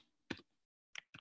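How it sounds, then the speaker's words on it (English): Three crisp clicks on a computer keyboard, one and then a quick pair after a pause, close and alone in a quiet room. "I'm gonna type this on the chat"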